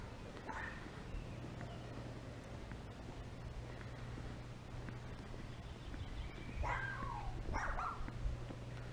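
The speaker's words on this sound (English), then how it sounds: "And that's what chihuahuas do. They bark." Small chihuahua yapping outdoors on a quiet evening near a house deck, a few faint, distant high-pitched barks scattered through steady low hum and breeze, with a slightly clustered pair near the end.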